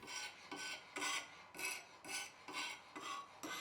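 Abrasive stone held in the arm of a TSPROF K03 sharpener rasping along a knife blade, about seven even back-and-forth strokes, close and quiet, with no talk.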